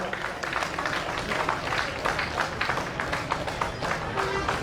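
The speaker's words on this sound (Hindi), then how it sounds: "जोरदार तालियों से मनमोहन जी का" An audience at a Teachers Day event in Kotdwar, Uttarakhand, claps steadily in dense, continuous applause to welcome a guest, with voices mixed in throughout.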